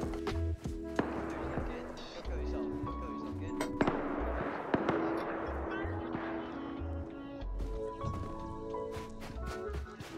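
Scattered sharp cracks of gunfire ring out in the survival video game Rust, some near and some distant, over a quiet background with occasional low talk.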